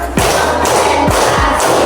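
Children clap their hands together in a classroom clapping game, a few sharp thuds landing in a loose rhythm, close and fairly loud over a steady room hum.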